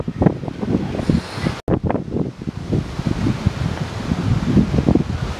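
Cold wind gusts across an outdoor hotel playground area, a continuous close rushing buffet on the microphone with fluttering surges throughout, briefly cutting out for an instant midway.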